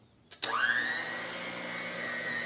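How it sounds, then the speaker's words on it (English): A blender starts abruptly and beats a mixture, a loud whirring motor that rises in pitch as it spins up, then holds a steady close drone. "To dissolve everything, we beat with the blender"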